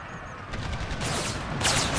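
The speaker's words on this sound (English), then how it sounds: "As the main volleys finally go off from my lines." Massed musket volleys and artillery fire from an Empire: Total War battle mod roll out as a dense, continuous rumble of overlapping shots, with sharper bursts near the end and no talking.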